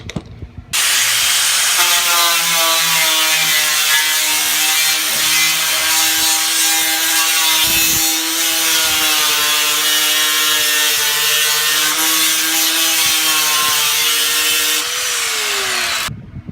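An angle grinder fitted with a 36-grit disc strips paint from a car body panel, a loud, steady abrasive whine with shifting harmonic tones held continuously for about fifteen seconds.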